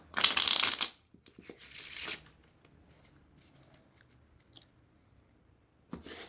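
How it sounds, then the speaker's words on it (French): A deck of playing cards shuffled up close during a magic trick, a dense riffle burst followed by a shorter one, then soft handling noises and a final brief riffle. "Le spectateur va mélanger les cartes."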